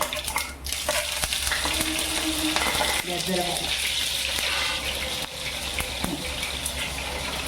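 Mustard seeds and cumin crackling in hot oil, a dense continuous loud sizzle with spattering pops and occasional utensil knocks throughout.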